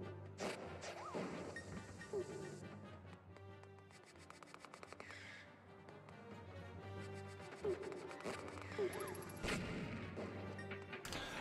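Bombs from bomb throwers in Zelda: A Link Between Worlds go off in a busy game soundscape. Several sharp bursts and crashes are spread across the stretch, mixed with rapid clicking game effects and music.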